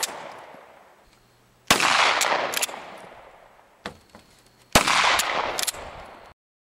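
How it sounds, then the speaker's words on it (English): Two sharp, loud Glock 19 pistol shots fired as contact shots, each a hard crack with a ringing decay, spaced about three seconds apart with quieter mechanical handling sounds between. "I'll show you what a contact shot looks like with the Glock"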